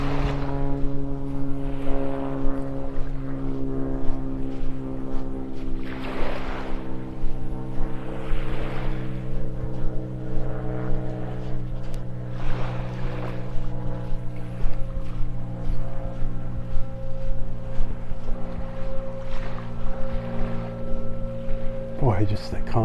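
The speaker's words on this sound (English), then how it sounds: "just the constant whine of that blower up there" A steady mechanical whine from a blower up near a beach in North Naples, Florida, droning continuously with sustained tonal hum under someone talking on a morning beach walk.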